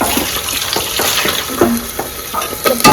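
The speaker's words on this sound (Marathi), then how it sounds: "कढीपत्त्यावर टाकला आता अद्रक लसूणची पेस्ट टाकली मम्मीने" Ginger garlic paste frying on curry leaves in a pan, a steady crackling sizzle with repeated stirring scrapes and clinks, loud and close, no voices.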